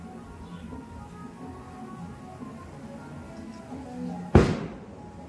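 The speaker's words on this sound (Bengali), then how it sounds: "বাজি পড়ছে, একজন করে" A single sharp firecracker bang bursts out near the end of a Holi celebration, loud and close, rising abruptly over a steady low murmur of background noise and fading quickly.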